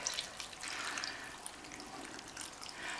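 Water pours in a steady, soft stream into a pan of sausage and pasta, a continuous close splashing trickle lasting the whole moment.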